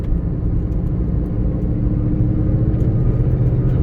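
A 2011 Shelby GT500 convertible with 750+ hp and adjustable Ford Racing suspension, its engine giving a steady deep rumble while driving, heard close and alone without speech.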